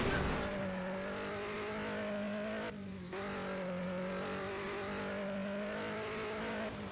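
In a racing video game, a race car engine drones continuously at a steady pitch, briefly dipping and wavering once midway before holding level again, with no voices.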